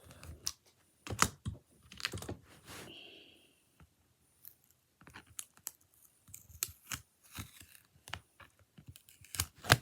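Vinyl overhang snipped away by hand during a Cricut Explorer Air decal project, a scatter of short crisp cuts and clicks, close and quiet, with a pause partway and no voices.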